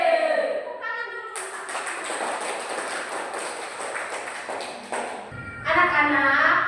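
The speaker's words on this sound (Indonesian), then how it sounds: "Tepuk tangan dulu." A class of young schoolchildren in an early-grade primary school lesson bursts into a few seconds of loud, dense hand clapping in the middle of the clip, with voices and classroom noise before and after.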